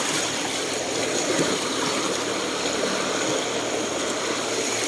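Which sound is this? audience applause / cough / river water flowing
river water flowing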